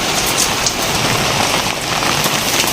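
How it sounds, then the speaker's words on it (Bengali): Heavy rain pours down in a dense, loud, continuous hiss of drops striking surfaces, unbroken across the short stretch. "বৃষ্টি যেমন আর থামবে না"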